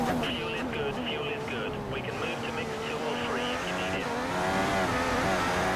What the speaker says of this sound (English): I think that's a Sauber coming through turn 1